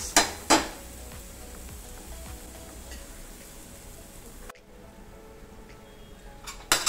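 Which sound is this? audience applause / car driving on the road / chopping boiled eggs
chopping boiled eggs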